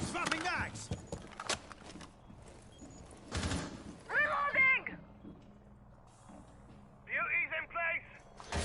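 Rainbow Six Siege gunfire, several sharp bursts of shots at uneven intervals mixed with mechanical clicks, while a commentator's voice runs over parts of the action.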